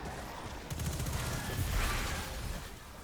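Rapid gunfire and weapon bursts in Destiny during a solo Prophecy dungeon run against a Taken Knight, a dense crackling barrage swelling in the middle of the combat noise.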